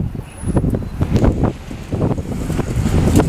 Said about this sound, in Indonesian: angin sangat kencang.